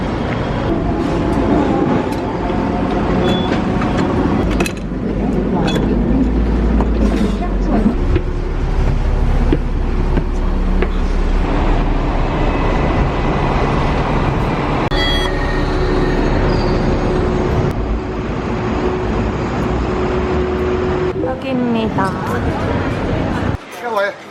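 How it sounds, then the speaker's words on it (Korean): Steady rumble of a moving tram in Hong Kong with rattles, clunks and a passing whine, while people talk over the ride throughout. "오늘도 트램 타고 가겠습니다"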